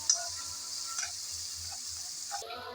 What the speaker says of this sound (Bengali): নেড়ে চেড়ে হালকা ব্রাউন কালার করে পেঁয়াজ ভেজে নিলাম